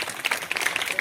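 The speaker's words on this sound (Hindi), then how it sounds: "तालियों की गड़गड़ाहट की आवाज़ अभी भी धीमी है" Brief, light applause from an audience at a primary school education gathering near Varanasi, with soft scattered claps over a murmuring background.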